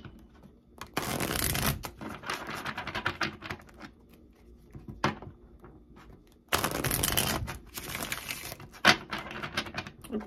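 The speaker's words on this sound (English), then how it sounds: "Okay, I'll get the cards out first" Tarot cards shuffled by hand at close range: two loud bursts of riffling flutter separated by softer handling, tapping and light card sounds, with no talking.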